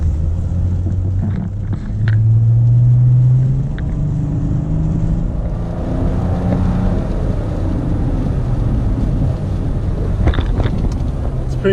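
Mercedes E300 with an OM606 diesel engine under full throttle, a loud, deep rumbling engine roar with wind noise, swelling early and then holding steady through the pull.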